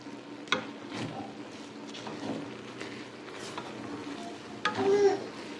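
A spoon stirs vermicelli with milk and vanilla in a pot, giving soft scraping and gentle bubbling, with a few sharper clinks of metal against the pot.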